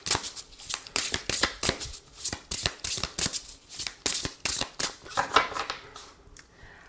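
Oracle cards for a love-language reading being shuffled by hand, a steady run of crisp riffling bursts and snaps repeating throughout, close and fairly quiet, with no talking.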